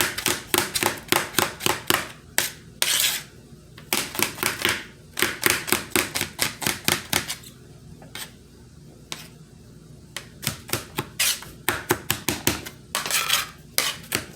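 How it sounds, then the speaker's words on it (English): A knife chopping onions on a cutting board while making spaghetti dinner: quick bursts of sharp, crisp taps in rapid rhythmic runs, separated by brief pauses, close and clear with no talking. "Cutting up my onions."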